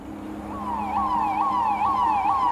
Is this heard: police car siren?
yes